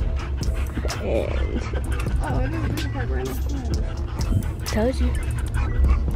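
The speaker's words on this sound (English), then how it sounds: "and now the dogs are going crazy." American Bully dogs at a dog show in the Ontario Convention Center pant, yip and whimper excitedly close by, with a few barks mixed in while people talk over them.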